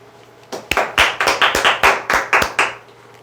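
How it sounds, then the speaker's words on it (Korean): A small audience at a lecture gives a short burst of clapping, about a dozen loud, close hand claps in a brisk rhythm that starts abruptly and fades out after a few seconds. "박수!"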